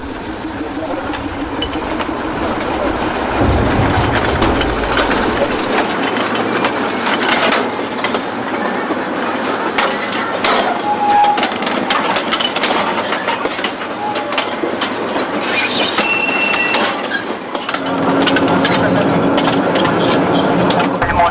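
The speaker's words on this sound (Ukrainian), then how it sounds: "Зараз ми проїдемося на цьому унікальному, справді унікальному потязі." A narrow-gauge Carpathian tourist train rolls along steadily with rhythmic clickety-clack of wheels on rails, a continuous rumble, and occasional squeals and creaks from the carriages.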